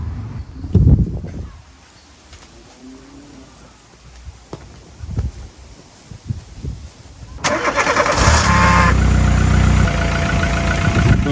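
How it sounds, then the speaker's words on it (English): A 20-year-old salvage Volkswagen Polo with an overheating problem is cranked and fires up. A few quiet knocks and rustles come first, then the engine catches and settles into a loud, close, steady idle. "let's start it up and find out"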